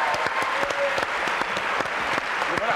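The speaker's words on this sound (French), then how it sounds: "Charlie et Lulu, mesdames, messieurs, applaudissements." Loud, dense studio audience applause on a French-language TV show fills the space, a steady wash of many hands clapping with a few faint vocal cheers mixed in.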